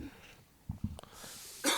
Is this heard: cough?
yes